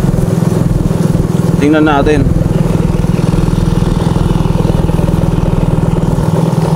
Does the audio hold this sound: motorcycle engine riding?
yes